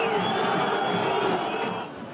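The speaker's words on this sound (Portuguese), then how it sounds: "não escaparia das vaias da torcida santista" Santos football fans booing at the Vila Belmiro stadium: a sustained, dense roar of disapproval from a large crowd that holds steady, then eases off near the end.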